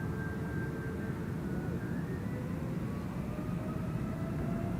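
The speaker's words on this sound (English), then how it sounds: "Air Europa spooling up" Air Europa airliner engines spooling up for takeoff at Amsterdam Schiphol, a steady low roar with a faint rising whine, heard from a distance and holding constant throughout.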